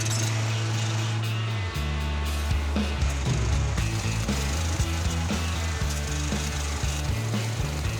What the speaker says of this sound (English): Pulling up the deck boards so that when we weld the plate to the beam,